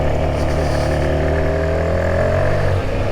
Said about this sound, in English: That's third gear pulling.